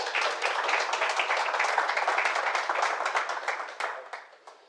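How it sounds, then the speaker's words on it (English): An audience at an authors' forum applauds a speaker, a dense burst of many hands clapping close by that holds steady for several seconds and then thins out and fades toward the end. "Let's give them a round of applause."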